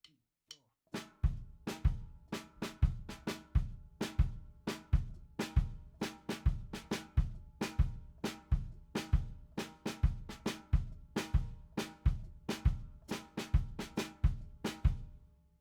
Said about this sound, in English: isolate the kick part and the snare part together and have a listen to how that interacts